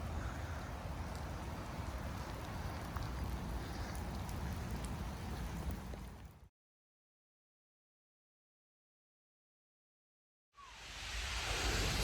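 Steady rain falling outdoors near the end of Hadrian's Wall at Wallsend, a dense broadband hiss that runs evenly for about six seconds, cuts out completely, then swells back in at the end.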